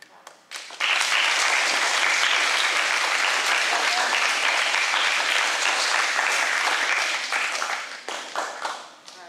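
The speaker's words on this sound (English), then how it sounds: "So I think we should clap." A school audience of grade 5 and 6 students bursts into loud, sustained applause that holds steady for several seconds before tapering off into scattered claps.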